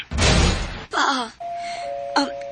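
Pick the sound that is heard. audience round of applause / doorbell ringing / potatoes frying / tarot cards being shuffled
doorbell ringing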